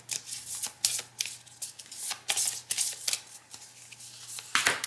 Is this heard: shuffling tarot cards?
yes